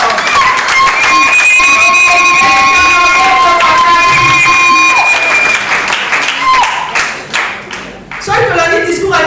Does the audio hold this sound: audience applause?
yes